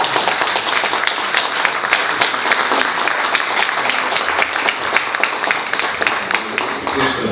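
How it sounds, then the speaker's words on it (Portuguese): An audience at a public lecture gives a loud, dense round of applause that holds steady and unbroken throughout. "eu pedia uma salva de palmas para o seu trabalho."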